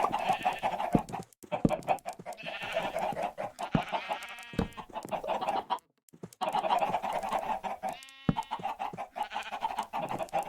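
Minecraft chickens cluck repeatedly in short, choppy bursts with brief pauses, fairly loud and close, with a few sharper squawks mixed in.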